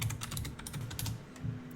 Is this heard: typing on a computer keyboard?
yes